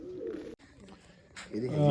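A pigeon gives a brief, soft coo close by, a short low burble among other pigeons being handled.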